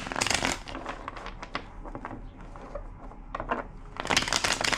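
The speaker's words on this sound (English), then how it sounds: "2 more shuffles." A deck of tarot cards being shuffled at close range, with bursts of papery riffling and flicking that pause in the middle and return strongly near the end, no voices over it.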